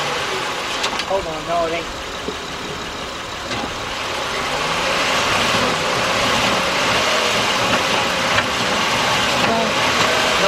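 A 2004 Honda Accord with a 3.0 engine runs steadily close by, a constant mechanical drone while someone talks over it.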